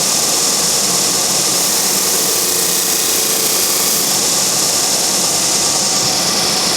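A power sander runs loud and steady with a broad, constant rushing roar while shaping the body of a Mya-Moe guitar, with no pauses or talking throughout.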